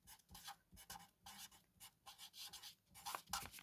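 Pen scratching across the back of a Pink Bubble craft card, a run of short dry strokes in uneven bursts, close and quiet, with no talk.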